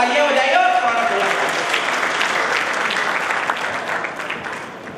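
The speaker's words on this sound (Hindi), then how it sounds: "आप एक बार दोनों हाथ पर उठा के जोरदार तालियां बजाइए।" Loud, sustained applause from an audience at a Hindi poetry or stage event in a hall, dense clapping throughout that gradually tapers off toward the end.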